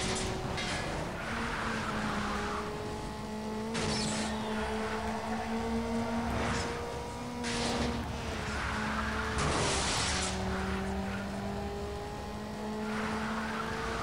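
A car in Need for Speed Underground runs at full throttle, its engine whine climbing through repeated gear shifts with brief breaks of noise in between, steady and moderately loud with no voices.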